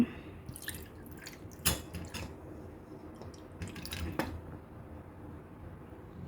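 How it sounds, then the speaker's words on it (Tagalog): Canned fruit cocktail is drained of its syrup, giving soft intermittent drips and wet splashes, close and fairly quiet, with scattered small clicks. "i-drain yung fruit cocktail. Syempre, huwag itapon yung syrup"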